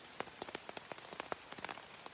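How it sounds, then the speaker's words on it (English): Steady rain patters on a tent during a hiking trip in New Hampshire's White Mountains, with dense, irregular drops striking the fabric up close in a continuous crackling patter. "It's a bit rainy out there."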